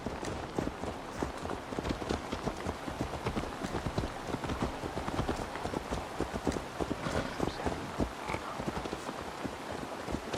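Horse hooves clip-clop at a steady running pace across ground in Assassin's Creed Valhalla, a dense rhythmic patter of hoofbeats held close and fairly loud throughout.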